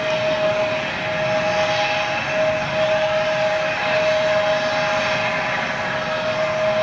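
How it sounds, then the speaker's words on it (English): A small Embraer jet taxis out at an airport in Manchester, its engines giving a steady loud whine and roar with a sustained high tone, close and continuous without talk. "We'll wait for this little Embraer to go out and then we'll do it, yeah?"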